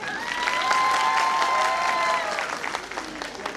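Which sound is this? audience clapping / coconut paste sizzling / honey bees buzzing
audience clapping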